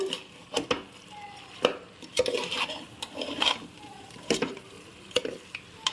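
Country chicken pieces being stirred with chili powder in a pan, with repeated utensil scrapes and knocks against the metal over a soft background sizzle, no talking.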